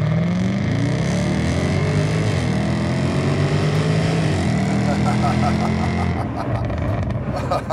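A Jaguar F-Type SVR in sport/dynamic mode roars hard through a 0-60 mph uphill launch from first gear, its exhaust note climbing steadily through the gears as a loud, continuous engine drone. Occupants' voices are faintly present.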